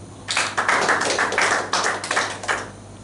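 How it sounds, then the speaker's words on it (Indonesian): A church congregation claps hands together in a burst of distinct, fairly loud claps with an uneven rhythm, close and clear over a low steady hum, lasting a few seconds. "Tepuk tangan dulu"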